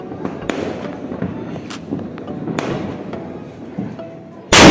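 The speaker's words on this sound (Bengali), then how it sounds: "তো আমিও একটা বোম ফাটিয়ে নতুন বছরকে ওয়েলকাম করলাম" Firecrackers burst on New Year's night, several sharp cracks popping at irregular intervals, some nearer and louder than others, ending with a loud blast of noise.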